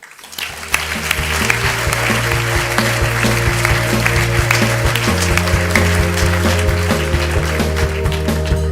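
An audience applauds as Hydro One's president and CEO is welcomed onto the stage at an Ontario event. Dense, steady clapping runs throughout, layered over sustained walk-on music.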